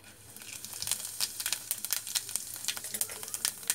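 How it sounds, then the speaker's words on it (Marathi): Curry leaves and cumin seeds hit hot oil in a pan for a Maharashtrian bhaji, giving a faint crackling sizzle with sharp pops and spatters close by. "आता टाकते मी कढीपत्ता टाकते, जिरं टाकते,"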